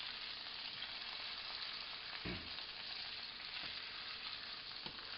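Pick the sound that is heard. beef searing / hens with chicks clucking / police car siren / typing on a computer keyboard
beef searing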